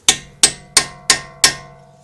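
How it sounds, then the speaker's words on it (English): Five evenly spaced metallic hammer blows stake an axle nut into the keyway on a 2014 Honda Odyssey driver's side CV axle, each strike sharp and ringing before it decays, close and loud with no talking. "we need to stake that nut and just pound this down into that little notch"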